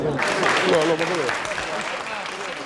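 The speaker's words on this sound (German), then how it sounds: "Beifall für den Hoffnungsträger." A crowd in Sicily in 1993 applauds a politician with steady, fairly close clapping, while speech and voices carry on over it the whole time.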